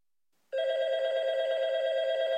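An electronic telephone ring tone from a ringtone designer app starts abruptly after a brief silence and holds as a steady, loud, buzzy tone.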